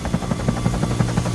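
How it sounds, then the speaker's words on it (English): Helicopter rotor from a Thomas Trainz video game arriving, a steady rhythmic low thudding of blades with engine whine, moderately loud and alone. "Then Harold the helicopter arrived."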